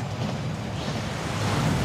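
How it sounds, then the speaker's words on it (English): The Thief's Downfall waterfall in Hogwarts Legacy pours in a brief, soft, steady rushing wash, with no voices over it. "That waterfall washes away all enchantments"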